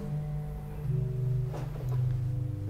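A Rohrquint 6-foot stop on the Hinsz pipe organ in the Bovenkerk, Kampen, sounds alone as steady sustained organ tones, shifting pitch a few times in a reverberant church.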